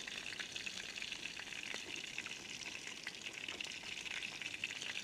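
A thick Wagyu steak sizzles steadily in a pan at a campground in the Everglades, a constant close frying hiss with faint pops.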